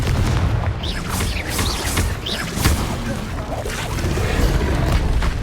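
Confringo blasting spell explosions in Hogwarts Legacy, repeated sharp booms and crashes in a rapid combat sequence with a voice speaking over the blasts.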